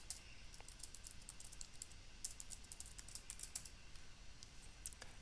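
A new password being typed on a computer keyboard during firewall setup: a soft, quick run of irregular key clicks, close but faint, with no talking.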